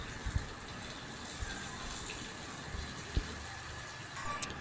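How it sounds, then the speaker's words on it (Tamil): Water pours steadily into a kadai of prawns and broccoli being fried, a continuous splashing gush with a few soft clinks, close by, with no talk. "அடிப்பிடிக்காமல் இருக்கிறதுக்கு ஒரு 3/4 கப்பு தண்ணி சேர்த்துக்கலாங்க"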